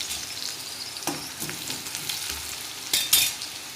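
Chopped cabbage sautéing in a hot pan, a soft steady sizzle broken by a few scraping stirs and clinks of the spoon, with no talk.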